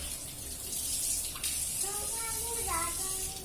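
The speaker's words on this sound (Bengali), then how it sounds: "চোখ মুখ ধুয়ে দিই" Tap water running steadily while a child's face is washed in the morning, a constant close splashing rush with a voice and an adult talking over it.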